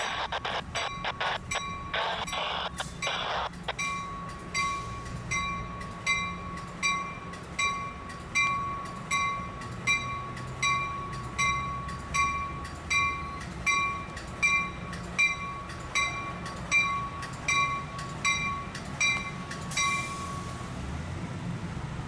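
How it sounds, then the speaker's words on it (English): Amtrak Pacific Surfliner passenger Train 573 passes northbound at Fullerton toward Los Angeles. Horn blasts at the start give way to a close, steady rhythmic clickety-clack as the cars roll past, with no talk. "Amtrak Pacific Surfliner Train 573 makes its way northbound to its last stop in Los Angeles."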